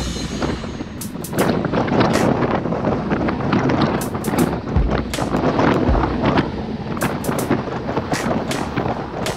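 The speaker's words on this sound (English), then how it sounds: "Listen to that wind." Strong wind buffeting the microphone during a group road bicycle ride on Capitol Hill Drive, a continuous loud rushing roar with gusty surges and sharp clicks and bumps from the bikes.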